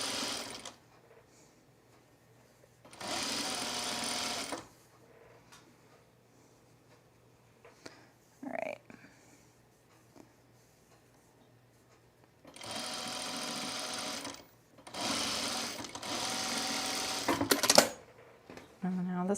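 A sewing machine stitches a seam on a pair of Cosecha pants in several loud whirring runs separated by pauses, with a person's brief speech and small handling clicks in the gaps.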